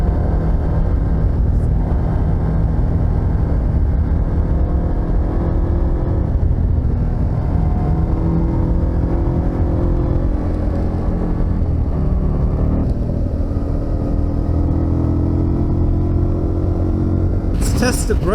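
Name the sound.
KTM 890 Adventure motorcycle engine while riding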